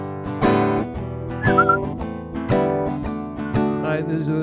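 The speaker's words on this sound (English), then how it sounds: "Everybody whistle." A group of people whistle a bouncy, rhythmic tune along with a song during an online worship service, the melody rising and falling in steady phrases alongside the music.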